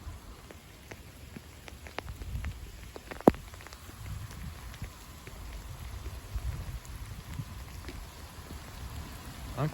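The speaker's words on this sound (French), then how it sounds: "Et grosse goutte un peu de la grêle fondue." Sleet and half-melted hail fall in a spring shower, a soft steady patter of drops on surfaces with occasional sharper single impacts, fairly faint and even throughout.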